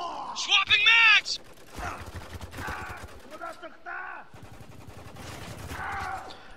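Rapid turret machine-gun fire in the war game Spec Ops: The Line, dense bursts of shots running under loud shouting voices.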